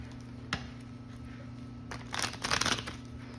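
A deck of playing cards is shuffled, producing a soft riffling flutter that swells briefly near the end over a low steady hum. Otherwise it is quiet, and no one talks.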